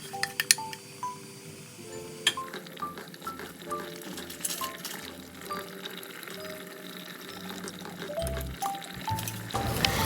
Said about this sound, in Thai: เราเติมน้ำกะทิลงไปนะคะ